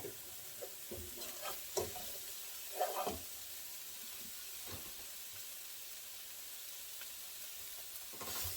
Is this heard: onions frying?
yes